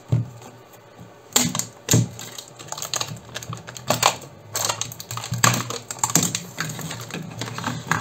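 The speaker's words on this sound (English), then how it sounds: "Best way is to actually cut open this." Someone cuts into the case of a Swytch universal eBike conversion kit battery, producing repeated sharp cracking snaps and scraping crunches in irregular bursts. The sounds are close and fairly loud, and no one speaks.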